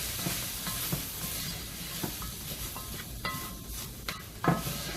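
A pot of vegetarian stew sizzles softly while flour is sprinkled in and stirred through, with scraping spoon strokes and small clicks against the pot rising over a steady quiet hiss.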